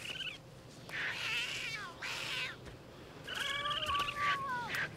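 Cat meows and yowls from The Sims 3 life-simulation game, several drawn-out rising and falling calls repeated over a continuous background of game sound and music.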